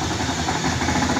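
A Kawasaki Barako 3 FI motorcycle engine with a worn connecting rod idles close by, a steady, rough, noisy mechanical running that continues without a break.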